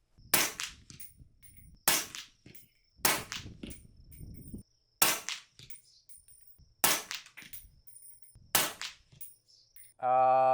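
A 338 ARC rifle firing subsonic Fort Scott ammunition during zeroing at an outdoor range: six sharp, loud reports spaced about every one and a half seconds, each with a short ringing tail, then a brief buzzy tone at the end.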